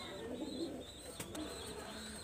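Golden pigeon squabs, a pair of babies, give soft cooing and faint calls at close range over steady low background noise, with no talk.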